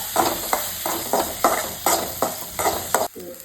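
Tomato with crushed ginger and garlic frying in a pan for a Kerala lobster dish, with close, rhythmic stirring strokes roughly every half second over a steady sizzle, ending in a sharp scrape.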